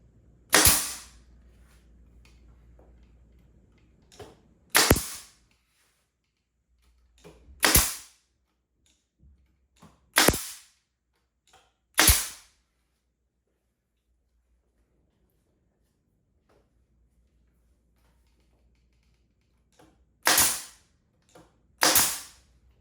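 A nail gun fires nails into a wooden reptile display case, sharp loud single cracks spaced several seconds apart with quiet gaps between, seven or so shots in total.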